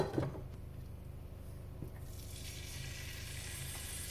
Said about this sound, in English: Just going to sear this a little bit.